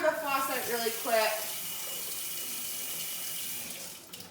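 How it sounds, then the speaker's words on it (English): Tap water runs from a kitchen faucet over wooden skewers to wet them, a steady splashing hiss that starts with a brief voice-like warble and flows on evenly before tapering off near the end. "Just run them over the faucet really quick."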